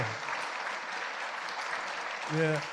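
Applause from a congregation at a church installation ceremony for deaconesses, a steady, moderate clapping that lasts the whole moment. A voice briefly speaks at the start and end.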